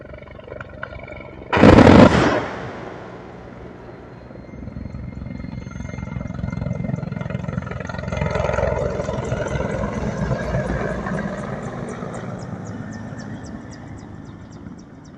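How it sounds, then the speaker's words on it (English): A sharp explosive blast early on, followed by the rising, rumbling drone of low-flying Mi-24 helicopters carrying out airstrikes, with a rhythmic rotor thump that persists to the end. "the video shows Ukrainian Mi-24 helicopters carrying out airstrikes on Russian positions."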